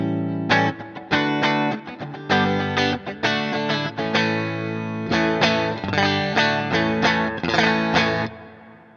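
Electric guitar run through a NUX Cerberus multi-effects pedal using a treble-boosted impulse response, strummed in bright, choppy rhythmic chords with short pauses between bursts, alone and without voices.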